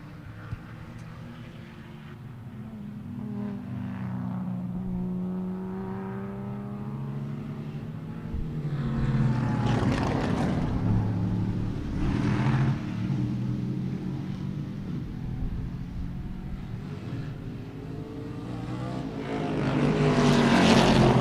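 Race car engines roar past in waves on the back straightaway at Sebring, building and fading as cars speed by at a distance, with a louder rush swelling near the end.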